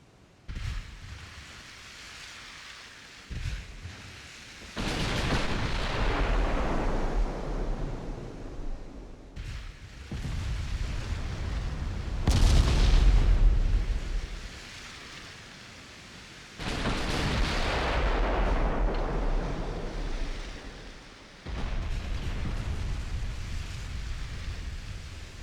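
Heavy main-gun salvos from a warship in a naval battle game against light and heavy cruisers, coming as long roaring booms that swell and fade in several separate waves, loud and without any voice.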